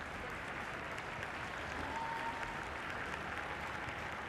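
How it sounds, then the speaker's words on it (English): Steady applause from a rugby stadium crowd at a women's Six Nations match between Italy and England, a continuous even wash of clapping held at a distance as players leave the field. "Nice to hear the applause as they go off the field"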